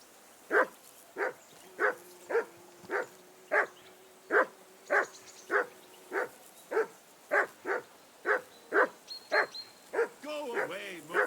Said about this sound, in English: Be quiet, you flea bitten hound.